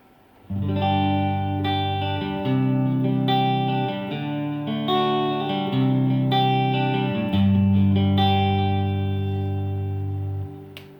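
Electric guitar played through a Joyo American amp-in-a-box pedal on a bass-heavy tone: a lightly driven, chorus-like sequence of sustained chords changing every second or two, loud and clean with no talk.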